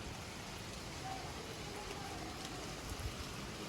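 Light rain falls steadily outdoors, a soft continuous hiss of drops pattering on surfaces, even and moderately faint throughout, with no speech.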